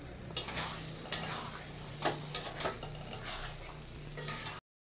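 Potatoes for aloo dum cook in spiced masala with a little water, giving a soft, steady sizzle and bubbling, broken by a few sharp scrapes and clicks of a spoon stirring the pan.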